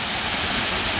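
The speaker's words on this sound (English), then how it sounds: "So, the waterfall is here." Pito waterfall in St. Lucia rushes in a dense, steady roar of falling water, loud and close throughout the short moment with no voices.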